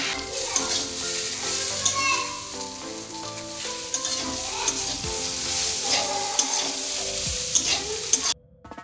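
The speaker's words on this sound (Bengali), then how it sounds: "আর এদিকে পটল করে রেখেছি পটলটা ভাজা করব" Pointed gourd (potol) frying in oil in a pan, a bright, steady sizzle with frequent scraping and stirring sounds from a spatula, heard close and alone.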